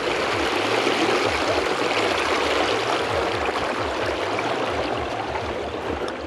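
Water of the Torsha river rushes past in a steady, loud, unbroken wash, with a faint low throb underneath and no voices.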